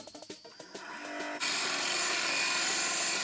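A piece of wood for a small decorative egg holder is worked with a few quick taps and scrapes. Then a loud, steady, rasping cutting noise runs continuously to the end.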